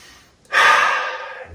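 A single cleansing breath during a standing office-break stress-relief exercise, a close, loud, breathy whoosh that starts abruptly, then slowly fades over about a second.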